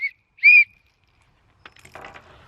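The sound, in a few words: emergency whistle from survival kit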